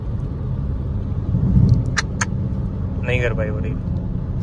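A BMW 630d GT and a Skoda Octavia 1.8 TSI drag racing, heard as a steady low road rumble of engine and tyre noise at speed, with someone talking over it.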